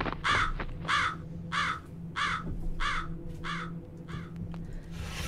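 Crows cawing in the horror video game Jisatsu, a steady series of about eight loud, evenly spaced harsh caws, clear and alone over a low ambient hum.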